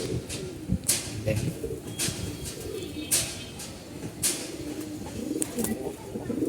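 Loft pigeons, including a red-geared bird, give steady low cooing throughout, with occasional sharp clicks and bursts, while someone talks over them nearby.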